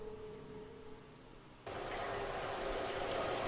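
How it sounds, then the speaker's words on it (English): Water suddenly starts running partway through, a loud broadband rushing that switches on abruptly after a quiet humming stretch and then continues steadily and close. "I hear water running."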